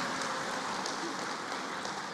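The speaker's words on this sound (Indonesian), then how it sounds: "tepuk tangan bagi beliau" Applause from an audience at a professional teacher induction ceremony, dense even clapping that holds steady and fairly faint throughout, sounding like a broad patter of many hands.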